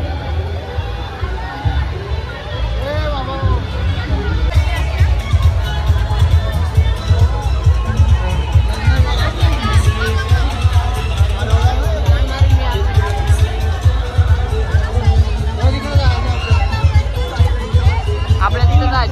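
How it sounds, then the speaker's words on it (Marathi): A dense crowd hubbub fills the Sajgaon jatra fair in Khopoli, many voices babbling and moving close by, with a person talking loudly over the steady noise throughout. "गर्दी बघा किती आहे, जास्त खूपच जास्त गर्दी आहे बघा"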